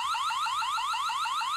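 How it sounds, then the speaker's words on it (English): A Wyze Cam OG security camera sounds its alarm siren, a loud, continuous electronic wail rising in rapid repeated sweeps, heard alone with no voices. "you can use an alarm siren to scare away any intruders"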